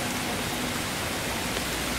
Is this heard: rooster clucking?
no